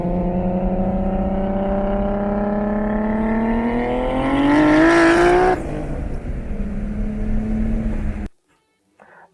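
A loud turbocharged RB36 inline-six car engine with a single turbo and 3.5-inch exhaust revs up steadily, its pitch climbing to a roaring peak before easing off and cutting out abruptly near the end.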